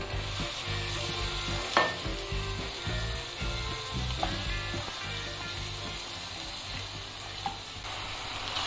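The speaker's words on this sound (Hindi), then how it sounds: "फिर टमाटर को भून लेंगे एकदम पक जाए" Tomatoes sizzle and fry in an Indian masala with a steady crackle, while a spoon stirs and scrapes the pan now and then, close and alone with no voices.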